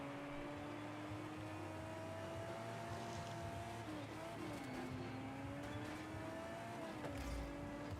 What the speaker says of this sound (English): this engine does sound a little bit different than the Ferrari F40